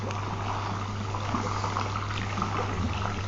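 A sample of pond water from an overcrowded fish pond is shaken in a container, giving a steady sloshing, bubbling liquid churn, close and continuous, over a low steady hum.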